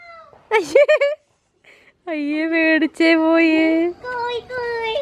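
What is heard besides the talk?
cat meowing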